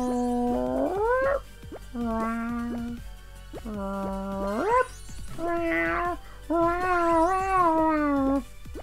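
A voice imitates a cat, giving several drawn-out meows one after another with short pauses between them.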